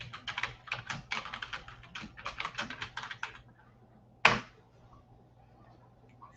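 Someone types a zip code on a computer keyboard, a quick run of close, crisp keystrokes in bursts for about three seconds, then quiet with a single sharp key or click near the end.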